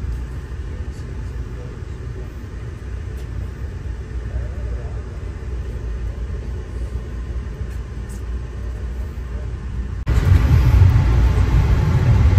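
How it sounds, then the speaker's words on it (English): Steady low rumble inside a moving Amtrak train bound for New York, a continuous broadband drone throughout that grows noticeably louder and rougher in the final couple of seconds. "I really like riding an Amtrak like this"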